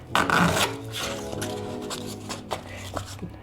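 A few rough rubbing and rasping strokes, close by, as sandpaper is cut, with brief quieter scrapes after.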